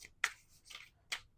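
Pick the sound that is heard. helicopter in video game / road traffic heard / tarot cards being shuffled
tarot cards being shuffled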